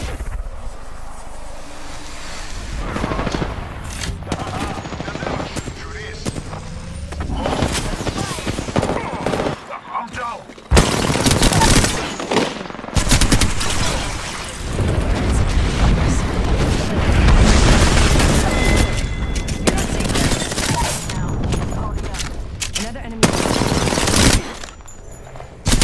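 Loud, dense gunfire in Apex Legends Season 5 ranked play: repeated automatic bursts and booming shots crowd the scene throughout, with brief gaps and game voice lines in between.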